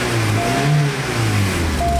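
A 1990 VW Jetta GLI with a hard-starting and vibration fault holds a steady rev at 3,000 RPM, a loud, close, continuous engine drone with a slightly uneven hum and no voices.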